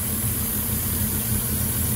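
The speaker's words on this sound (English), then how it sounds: "You see me shaking now because the engine's shaking so bad." A Ford F-150 pickup's 5.4L 3-valve Triton V8 idles roughly with a lean-running fault, a low, steady rumble with vibration, close by and without talking.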